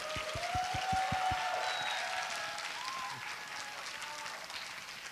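Applause from a church congregation welcoming a pastor at a Sunday young adults' worship service, a dense steady clatter of many hands filling the room for the full stretch, with a few louder low thumps near the start.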